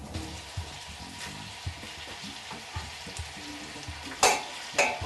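Conch meat (lambi) sizzling and frying in a pan with onion, a steady close crackle broken by stirring scrapes and a couple of louder splattering bursts near the end.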